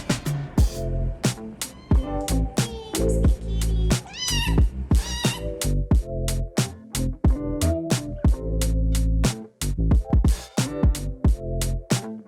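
A cat meows over and over, loud and close, in a string of sharp, rising and falling calls with short gaps between them and no talking.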